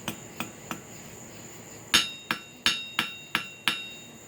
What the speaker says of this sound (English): That's why I'm using such a little hammer.